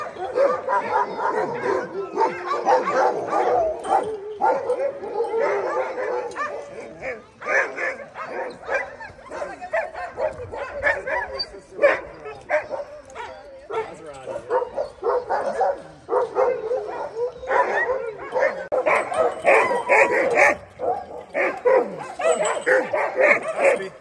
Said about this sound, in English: we did get to watch them hook it up, and that's when the dogs really got excited